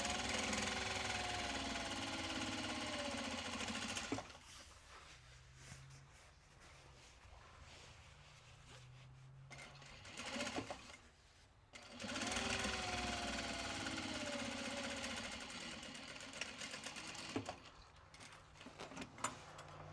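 A sewing machine runs in long continuous bursts as the long edges of fabric bags made from Japanese fabrics are sewn, its motor whirring close and steady, broken by quiet pauses with clicks and handling noises.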